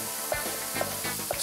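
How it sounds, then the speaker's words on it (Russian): Beef sizzles steadily in a hot frying pan, making a close, continuous crackling hiss. Three soft, evenly spaced stirring knocks come through it, and no one speaks. "Пока жарится говядина"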